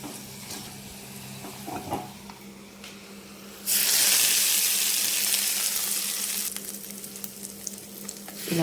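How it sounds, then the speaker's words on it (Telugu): After a quiet stretch of faint scraping, a hot oil tempering with turmeric is poured into coconut chutney and erupts in a sudden loud sizzle that slowly fades, followed by light stirring clatter. "ఇప్పుడు ఏగిన పోపుని కొబ్బరి చట్నీలో అయితే కలుపుకుందాము."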